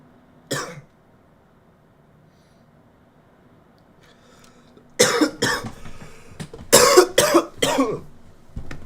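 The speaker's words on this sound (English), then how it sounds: "I don't know why I'm coughing so much." A single sharp cough, then after a quiet pause a burst of several loud, rough coughs in quick succession, close to the microphone.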